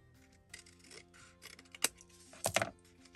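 Scissors cut down a purse journal cover, giving a few quiet snips and rustles of the cover material, with two sharper close cuts standing out amid soft handling noise.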